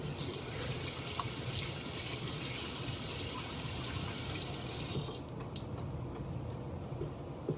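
Tap water runs steadily into a kitchen sink for hand washing, a continuous hissing splash that stops abruptly near the end, leaving a few small clinks and drips.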